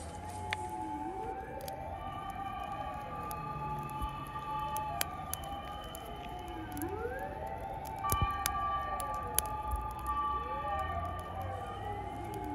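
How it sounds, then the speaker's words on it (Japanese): Police, fire and ambulance sirens wail and sweep up and down at once near a wooded campground in Kasagi, Kyoto, overlapping wails rising and falling continuously with scattered clicks and background noise. "パトカー、消防車、救急車もやってきている様子です。"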